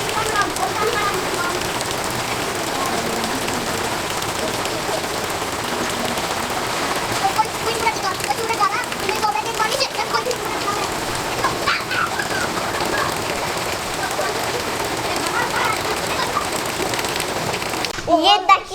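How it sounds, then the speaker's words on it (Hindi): Heavy rain pours steadily on a surface outdoors, a dense continuous hiss that holds for the whole stretch, with a few brief clatters at the very end. "ये देखिए कितनी तेज़ बारिश फिर से आ गई है"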